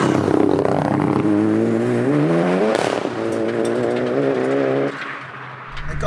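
A 607bhp Seat Leon Cupra with a turbo and rolling anti-lag revs hard from inside the car, the engine note climbing through flat-foot shifts with sharp drops and crackles between gears.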